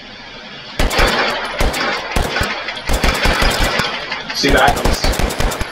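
Revolver shots in the VR game H3VR fire in quick, irregular bursts of sharp, loud cracks, with a brief spoken remark among them.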